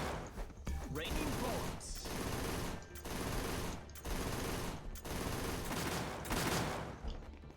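Pistols fire in the video game Punishing: Gray Raven during a Devil May Cry crossover event, with dense rapid volleys in loud repeated bursts separated by short gaps.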